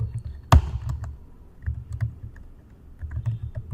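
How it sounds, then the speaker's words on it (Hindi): Keys are pressed on a computer keyboard while working in Microsoft Excel: one sharp, close click stands out, followed by lighter scattered taps and typing over a low background hum. "तो आप कीबोर्ड से जाके अल्टर प्लस इंटर प्रेस कर दो"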